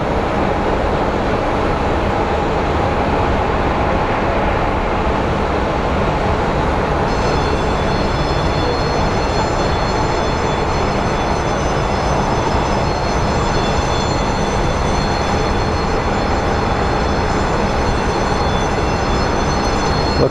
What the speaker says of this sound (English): Whoa, that is a steep, steep takeoff for the Spirit.